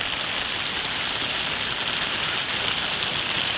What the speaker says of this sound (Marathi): उलटा हा पाऊस वाढतच चाललेला आहे